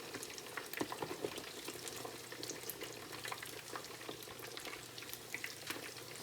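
Walleye cakes fry in a hot pan, giving a steady, moderately loud crackling sizzle with scattered pops that runs continuously from start to finish, with no voices.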